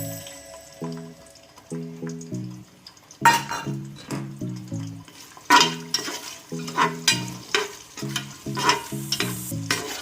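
A full cup of onions goes into hot oil in a pot for chicken harees, and a sizzling burst of frying follows, with repeated stirring scrapes over a soft music bed.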